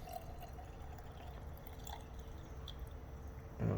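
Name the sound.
paraffin lube poured back into storage jar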